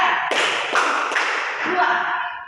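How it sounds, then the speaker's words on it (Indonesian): In a classroom, a group claps in a counted rhythm: three sharp, evenly spaced claps under a teacher's voice, with the room ringing briefly after each clap. "Tepuk satu, tepuk dua, tepuk tiga"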